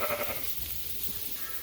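Sheep on a farm in March, with a faint, distant bleat at the start against a quiet rustling background, no talk.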